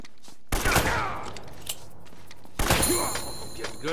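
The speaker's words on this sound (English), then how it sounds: "They're shooting at you too" Enemy gunfire in the video game Uncharted comes in two sharp, loud bursts a couple of seconds apart, each trailing off into a rattling echo, with no voices.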